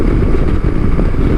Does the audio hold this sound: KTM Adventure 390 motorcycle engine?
yes